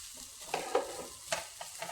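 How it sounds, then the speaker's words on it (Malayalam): Sweet potato leaf thoran stirred in a pan with crushed coconut paste, a few soft scraping strokes over a faint sizzle, spaced out and close by. "ഒന്ന് ഇളക്കി കൊടുക്കാം."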